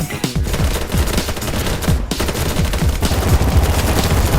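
Relentless automatic gunfire in the shooter BattleBit Remastered, a dense, loud rattle of rapid shots overlapping from several weapons, continuous throughout with brief dips between bursts.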